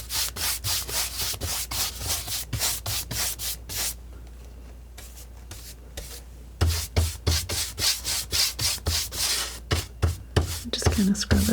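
A bristle brush scrubs solvent-thinned oil paint onto canvas in rapid rhythmic back-and-forth strokes, close and crisp, pausing briefly midway before resuming with louder, firmer scrubbing.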